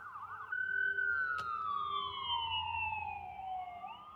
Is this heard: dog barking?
no